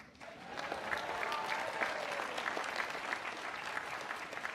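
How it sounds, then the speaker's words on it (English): A graduation ceremony audience claps steadily for several seconds, a dense wash of applause that swells early and holds at an even level. "maybe if you could just applaud"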